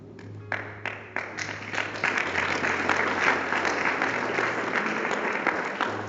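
A few scattered claps start things off, then a church audience breaks into sustained applause that holds steady to the end.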